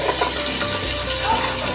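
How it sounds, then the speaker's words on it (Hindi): Chopped green onions sizzle and crackle in three to four spoons of hot oil, a steady close hiss with light stirring through the short stretch, no talking. "हल्की सी फ्राई हो जाएगी ग्रीन प्याज"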